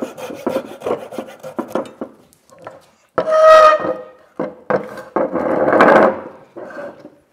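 A hand saw cuts off the end of a wooden Windsor chair spindle, with rapid rasping strokes that build into longer, louder grinding passes and short pauses between them, close up and with no talk.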